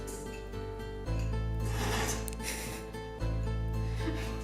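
A spoon scraping butter and sugar around a bowl for cupcakes: harsh, rasping grinding strokes, loud and close, with two sharp surges of scraping over a steady droning background.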